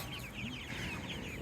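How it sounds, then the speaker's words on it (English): Laying hens cluck softly in a farmyard, a faint cluster of short, overlapping clucks and murmurs against low background noise. "these chickens here that you see"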